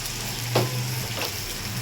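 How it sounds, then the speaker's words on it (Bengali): Spices and nut paste for a prawn malai curry sauté in a pan, giving a steady, close sizzling hiss with a couple of soft scrapes from stirring. "এখন সব মশলা আবার একসাথে আমি ভালো করে কষিয়ে নেব।"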